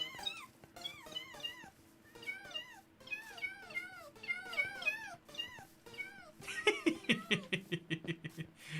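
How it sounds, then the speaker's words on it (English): Minecraft cat meows pitched to form the Tetris theme in a game, a quick rhythmic run of clear, tuneful mews, ending in a denser, louder burst of rapid meows. "have you ever wanted to hear a cat do the Tetris theme?"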